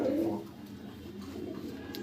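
Pigeons kept as a tournament racing collection coo softly in a loft, a low throaty burst at the start, then quieter murmuring under steady background noise.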